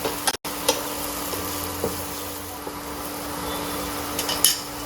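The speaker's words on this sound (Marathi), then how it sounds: "थोड्या वेळाने उलटण्याने आपण ती फ्लिप करूया, जेणेकरून दोन्ही बाजूने ती छान भाजली जातात." Sweet potato slices frying in a pan give a soft, continuous close sizzle, with a few light scraping and tapping touches of a utensil as they are turned; no talk.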